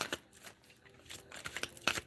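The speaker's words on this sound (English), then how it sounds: "shuffling your cards" Tarot cards being shuffled for a spiritual reading, heard up close and quiet as a series of soft, papery riffling bursts at an uneven rhythm with no talking.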